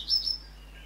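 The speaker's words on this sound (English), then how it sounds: "And then it goes to all like the Tweety Birds in the background." A couple of quick, high bird chirps sound briefly in the background of a music video, over an otherwise quiet bed.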